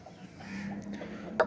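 Chickens let out on a rural farm after rain cluck softly nearby, a few short calls over a low background with one sharper cluck near the end.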